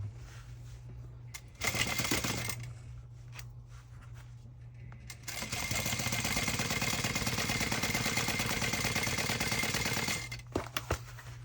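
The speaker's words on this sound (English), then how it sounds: "we're going to sew all the way down to the 1/2-inch mark and stop." A sewing machine stitches a tote bag in two bursts, a short run followed by a longer steady rhythmic chatter of several seconds, with a low motor hum between stitching runs.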